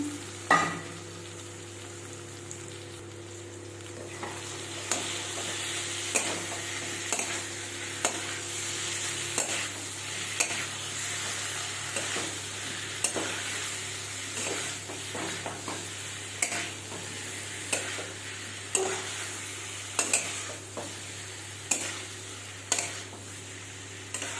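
Fried jackfruit and potato pieces are stir-fried in a spice paste for a homestyle Bengali curry, a soft continuous sizzle punctuated by regular scraping strokes of a spoon against the pan, fairly close and alone.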